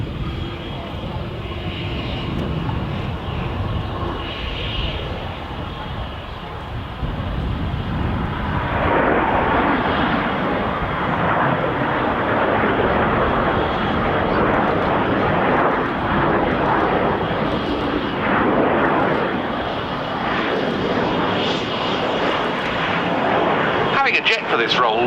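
A pair of BAC Strikemaster jets flies past with a loud, sustained engine roar that swells and holds steady for most of the stretch, broad and continuous, with a quieter rumbling lead-in.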